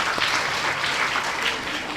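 Audience applause at a Kabir Jayanti festival gathering and satsang with a bhandara at a Kabir ashram, loud, dense clapping from a crowd sustained across the moment without speech.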